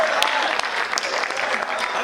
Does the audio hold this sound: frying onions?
no